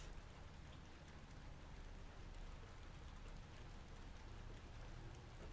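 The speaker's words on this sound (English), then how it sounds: "it is raining outside, and I can hear the rain." Quiet, gentle rain falls steadily outside, a soft, even wash of drops with no thunder and no voices.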